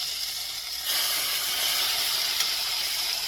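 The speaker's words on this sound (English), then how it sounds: "Now this chicken is sizzling away." Steady, loud sizzling hiss of chicken frying in a hot cast iron skillet, growing a bit stronger partway through and continuing without pause.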